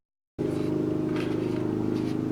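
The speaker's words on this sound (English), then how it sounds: "mowing his lawn, so please bear with me for a while" A neighbor's lawn mower runs just outside the back door, its engine cutting in abruptly and then holding a steady, droning hum at moderate volume.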